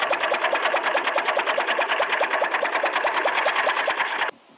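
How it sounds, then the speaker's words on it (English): Henry Ford's quadricycle, a basic machine built from two bicycles side by side, runs its gasoline engine in a fast, steady, rhythmic chug, loud and close, before cutting off abruptly near the end. "a basic contraption made of 2 bicycles side by side, chugging along with a gasoline engine"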